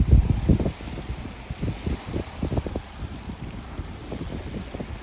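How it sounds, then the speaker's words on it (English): Coastal wind beside a lighthouse gusts and buffets against the microphone, giving uneven low rumbling bursts that continue throughout the clip. "The wind is blowing."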